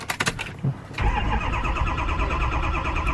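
A Ford truck engine cranks with a few rapid starter pulses, then catches at about one second and settles into a steady, fairly loud running idle.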